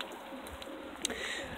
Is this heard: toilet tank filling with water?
no